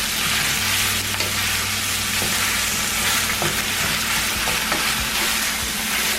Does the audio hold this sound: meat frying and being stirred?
yes